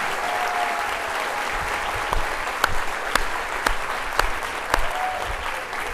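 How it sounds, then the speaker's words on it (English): A school convocation audience applauds the transportation team, a broad, steady wash of clapping from a large hall crowd with a few sharper claps standing out. "So our transportation team deserves a clap too."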